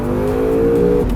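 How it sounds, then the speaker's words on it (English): The engine of a 2017 Acura NSX in Sport Plus mode gives a short, loud growl from close by, its tone holding steady and climbing slightly, with no talk. "The engine growl and turbo breathing from behind is sonic bliss."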